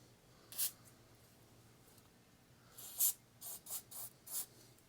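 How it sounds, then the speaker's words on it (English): An aerosol can of suspension cleaner sprays onto the upper fork of a Kawasaki KLX 300 dirt bike: one brief hiss, a pause, then a quick run of four or five short, close bursts with no voices. "And I'm going to spray a little bit up here as well."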